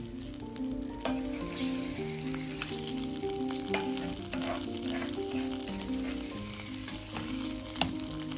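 Koottu curry, a Trivandrum Onam sadya dish of vada and curry leaves, stirred in a pan off the heat, with a steady soft sizzle and scraping spoon sounds running throughout, close and continuous without talk.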